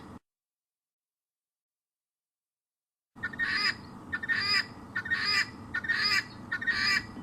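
Fowl on an African safari give repeated honking, gobbling calls in a steady series of bursts, fairly close and loud, after a stretch of near silence, with no talking.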